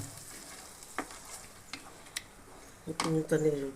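A spoon scrapes and stirs a thick masala paste for chickpea channa masala gravy in a frying pan with soft clicks, building to a louder squelching, sizzling stir at the end.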